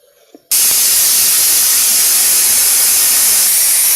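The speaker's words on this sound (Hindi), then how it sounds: "ये देखिए हमारी चौथी सीटी आ गई" A pressure cooker whistle shrieks loudly as it vents steam, a sudden, sustained hiss that starts after a brief quiet moment and continues steadily. The cooker holds palak aloo and sits on a kitchen gas stove.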